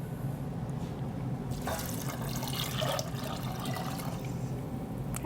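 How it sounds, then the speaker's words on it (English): Water pours into a cooking pot holding corn on a stovetop burner, a steady splashing flow that swells in the middle and then settles, close by with no talking. "And now we're going to add the water to our pot."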